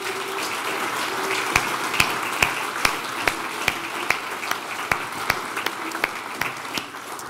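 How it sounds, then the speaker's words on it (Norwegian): An audience at a Norwegian building-sector event claps for Ola Elvestuen as he comes on stage. Steady, moderate applause with a few loud, distinct nearby claps standing out above it. "Gi han en applaus da."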